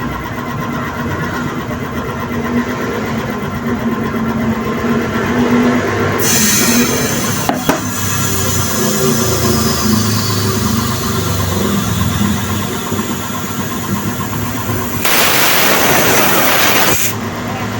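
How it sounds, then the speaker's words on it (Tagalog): A loud, continuous mechanical roar of an air compressor running nearby outdoors in rain, with bursts of hissing noise partway through. "Ayan, nakita nyo naman kung gaano kalakas yung compressor."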